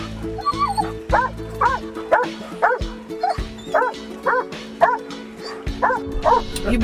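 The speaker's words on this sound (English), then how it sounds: "These are happy barks. Barks of excitement, Sharon." Sled dogs at a dog sled ride in Lake Placid, New York bark and yip excitedly in a steady, rapid run of loud, close calls with whimpering between them, under quiet background talk.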